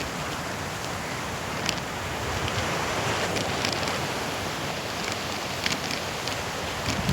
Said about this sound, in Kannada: ಸಮುದ್ರ ಹಳೆಗಳ ಸೌಂಡ್ ಕೇಳ್ತಾ ಇದೆಯಾ